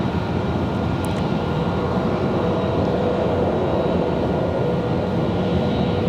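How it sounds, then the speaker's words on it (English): A Mesa-operated United Express Embraer E175LR arrives at Raleigh-Durham from Houston, producing a constant, moderately loud jet roar with a faint whine running through it, no talking. "Ash 6148 coming in from Houston, an E175LR"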